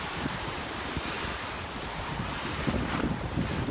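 Ocean surf breaking and washing in the shallows at Ventura State Beach in California, a steady broadband wash with wind noise buffeting the microphone and a slightly louder surge near the end; no talking.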